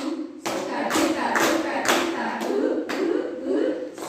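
A group of teachers performs the tepuk sukacita rhythmic clapping game, striking loud, close claps in a steady pattern of roughly two per second, each clap landing with a hollow thud.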